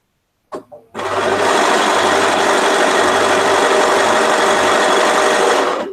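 After a brief tap or two, a sewing machine starts up and stitches a quilt at a steady fast pace, a close, loud, continuous mechanical whir with a rapid needle chatter that holds until it stops.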